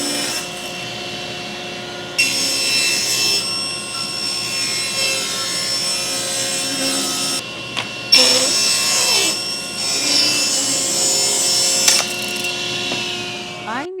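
Power saw trimming the sides off leftover scrap cedar picket boards for a small garden harvest basket, a loud steady whine with cutting noise and a brief pause partway through, near and alone.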